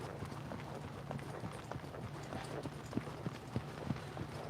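A mustang mare canters in an arena at an Extreme Mustang Makeover in California, her hooves beating in a steady three-beat rhythm of soft thuds over constant background rumble, moderately close, with no voices.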